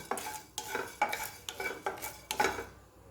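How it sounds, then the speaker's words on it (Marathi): Garam masala dry-roasted in a pan while being stirred, six rhythmic scraping strokes of a utensil against metal at roughly half-second intervals, close and clear with no voices. "जो गरम मसाला घेतलेला होता तो सुरुवातीला भाजून घ्यायचं आहे थोडंसं खमंग असं भाजायचं आहे"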